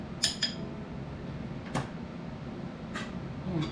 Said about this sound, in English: Mix them up a little bit in there.